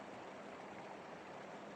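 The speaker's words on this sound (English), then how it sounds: "It sounds like there's like a little creek or something like that just off in the distance right here." Small creek flowing in the distance at a snowy mountain campsite, a soft, constant rushing wash with no other sounds.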